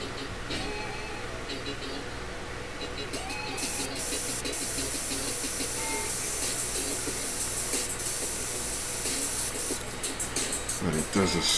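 An airbrush sprays paint in a thin, steady hiss with short bursts and pauses, the air pressure turned up as the paint flow tightens, alongside a speaking voice.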